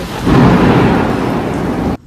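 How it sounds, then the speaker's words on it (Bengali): Heavy monsoon rain pours down with a deep roll of thunder, loud and close, filling the air for about two seconds before cutting off abruptly. "ঝমঝমে বৃষ্টি,"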